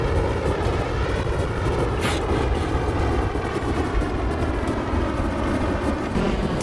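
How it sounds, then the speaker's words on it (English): A fighter jet taking off: a steady, loud engine roar holds throughout, a continuous rushing drone with no voices over it. "This is my fighter, Jack. I am about to take off."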